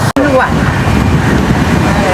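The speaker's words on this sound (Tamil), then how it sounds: "இங்கால சரியான காத்து கூடவா இருக்கு" Strong cyclone wind in Jaffna during flooding, a loud, steady roaring rush buffeting the microphone throughout, with a voice speaking over it.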